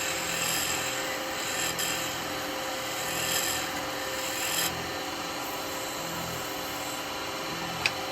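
Yew goblet turning on a wood lathe with a negative rake cutter: a steady rubbing, rasping scrape over a constant motor drone, fairly close, with a short sharp knock near the end and no talk.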